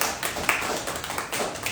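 Audience applause for candidates at a student election debate, a steady wash of clapping lasting under two seconds at moderate level.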